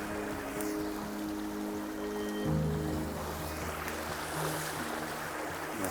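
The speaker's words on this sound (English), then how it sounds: "It's our creek, it's our community's creek." A community creek in Ontario flows with a steady, even rush of water that holds constant throughout, with a faint low hum underneath.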